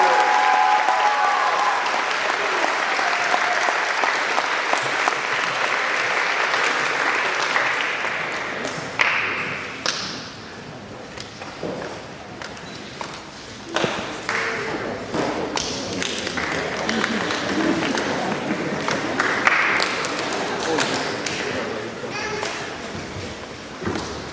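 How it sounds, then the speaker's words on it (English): A school academic awards audience claps for honored students, loud continuous applause at first that thins into scattered claps, taps and thuds, with some voices and movement in the room. "Give these students a big round of applause for all their accomplishments and their hard work"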